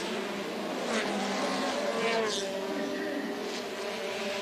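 A Formula Renault race car at a 2005 race in Salvador runs through a chicane, its engine note rising and falling over a steady track roar, with a commentator speaking over it throughout.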